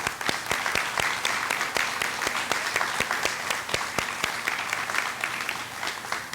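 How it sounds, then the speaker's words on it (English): An audience applauds at an 8th grade awards ceremony, with steady, dense clapping that carries on at an even level throughout. "I think we should give them a round of applause."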